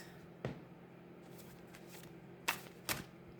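Tarot cards are shuffled and handled in a quiet room: a few soft riffles and sharp flicks, three distinct card snaps standing out over faint background hum, with no talking.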